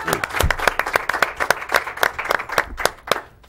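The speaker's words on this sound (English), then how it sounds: "Let's get a round of applause for Chef Kiki, please" A small studio audience at a local evening talk show claps in uneven, separate bursts, each sharp clap distinct and fairly close, thinning out toward the end.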